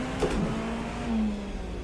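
A race car engine in the Rennsport racing game holds a moderate, steady tone for a brief moment as the throttle is eased through a corner, with no talk.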